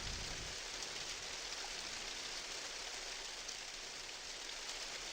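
Steady rain hisses evenly in the video game Minecraft, a faint, continuous wash of falling water with no other sounds.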